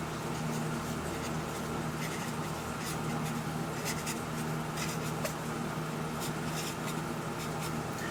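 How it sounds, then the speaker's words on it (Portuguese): A number sequence is written on a board, a faint, steady run of soft scratching and tapping strokes over a quiet room hum. "eu vou escrever essa sequência dos números naturais"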